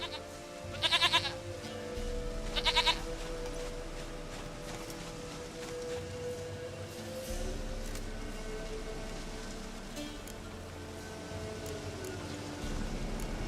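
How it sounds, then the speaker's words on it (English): A goat in The Witcher 3 gives two short bleats close together near the start, set against a soft, steady in-game ambience of rain and low background tones. "Goat of mine, dearest, sweetest goat."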